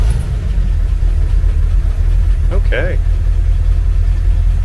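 A 1957 Dodge Power Wagon engine runs at a steady idle, a loud, continuous low rumble throughout, with a brief spoken word partway through.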